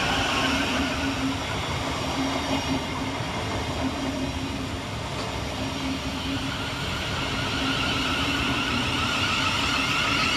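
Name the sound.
Thameslink class 700 train arriving at station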